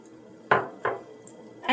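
Sugar goes into a pot of milk reduced by half for rabidi, with a few sharp metallic clinks and knocks of a utensil against the pot over a quiet background.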